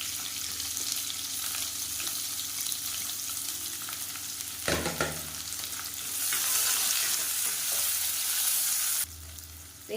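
Thinly sliced large onion, added after curry leaves, fries in oil in a pan for a Tamil kurma, giving a continuous loud sizzle with occasional stirring scrapes, steady throughout and no voices.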